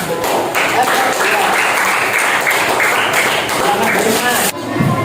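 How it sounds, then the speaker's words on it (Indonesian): A group of people applauds a small group in a class session, brisk dense clapping that fills the moment and cuts off sharply near the end. "tepuk tangan untuk kelompok 3"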